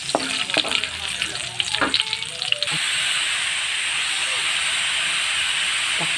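Garlic and onion frying in a pan, first with a few clatters and scrapes of stirring, then settling into a loud, steady sizzle and hiss that fills the rest of the stretch, with no talking.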